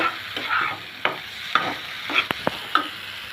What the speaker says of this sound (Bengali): এখন এই পর্যায়ে আমি দিয়ে দিব চিংড়ি মাছগুলা, ভালো করে মশলার সাথে মিশিয়ে নিব।